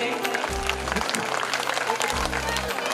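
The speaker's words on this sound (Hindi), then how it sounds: "जोरदार तालियों के साथ में इन बच्चों का हौसला अफजाई करें" A crowd at a community talent award ceremony applauds children coming on stage, a continuous wash of clapping running throughout, with low thumps sounding twice in the background.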